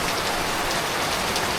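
Heavy rain pours steadily at Pavagadh near the Mahakali temple, a dense, even hiss of drops drumming on surfaces with no pauses and no voices.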